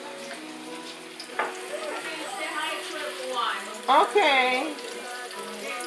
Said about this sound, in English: so I show you how we fry